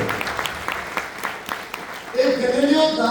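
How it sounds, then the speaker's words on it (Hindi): An audience at a spoken lecture bursts into a short round of clapping. The claps are dense and close at first, then fade as a voice takes over and talks. "जोरदार तालियां सर के लिए।"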